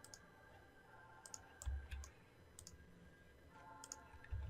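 Computer mouse clicks while playing Everquest, heard as sharp, quiet, close clicks that come singly and in quick pairs, over a low background hum.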